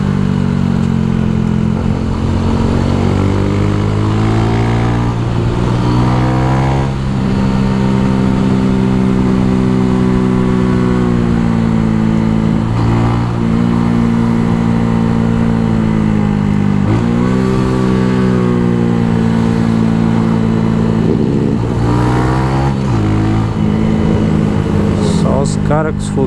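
A Honda Pop 110i motorcycle climbs a steep mountain road, its small engine droning loudly and close, with the pitch rising and falling as it labors and shifts on the grade.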